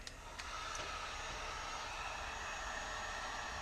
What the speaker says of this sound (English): So I start there with the heat gun.